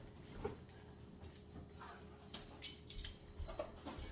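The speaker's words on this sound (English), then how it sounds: "I may have a dog trying to get up here." A pet dog whimpers softly in a home kitchen while baking ingredients sit out on the counter. The faint, intermittent whines and scrabbling come from close by, low against background room noise.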